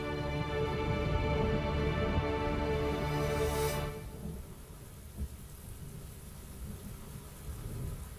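Heavy rain pours during an anime mountain downhill car race, loud and dense for a few seconds before abruptly dropping to a softer, steady patter with occasional low rumbles.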